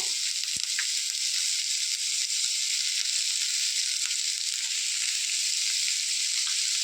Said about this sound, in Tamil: நல்லா வதங்கட்டும். வெங்காயம் கொஞ்சம் வதங்கிச்சு.